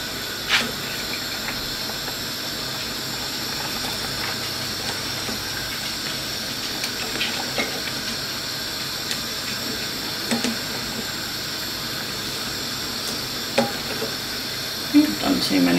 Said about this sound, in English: we're just gonna let that simmer now until it's done